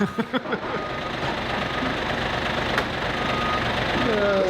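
A truck reverses nearby, its engine rumbling steadily with intermittent reversing beeps rising over a busy street background during a trade-show interview outdoors.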